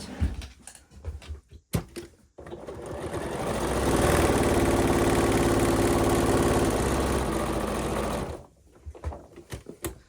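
A sewing machine runs steadily for several seconds, stitching around a dressmaking seam with one side left open; a loud continuous whir with brief clicks before and after.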